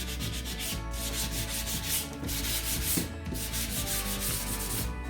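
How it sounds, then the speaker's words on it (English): Sandpaper rubbed steadily back and forth along the edges of a laser-cut wooden kit piece, a continuous close, loud scratchy rasp with rhythmic strokes and no talking. "I'm just going to give it a sand. And distress those edges."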